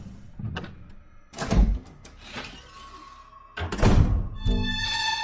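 Several heavy thuds and knocks, like a front door being shut, land one after another at close range, with rustling movement between them.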